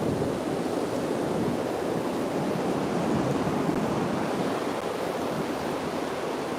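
Sea waves wash steadily along the shore on a car-free seaside stroll, a continuous broadband surf rush blended with wind buffeting the microphone, loud and unbroken throughout.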